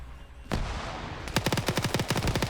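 Vehicle-mounted machine gun in an online multiplayer war game firing long rapid bursts, preceded by a single loud blast; close and loud, with no talk over it.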